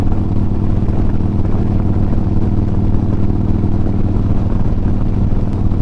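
A 2009 Harley-Davidson Road Glide with aftermarket exhaust idles close by, a steady, deep, rumbling pulse that holds even and loud throughout with no revving.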